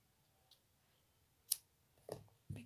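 Scissors snipping yarn during crochet work on a small Donald Duck figure, a few quiet, close clicks and snips spaced apart in an otherwise hushed room.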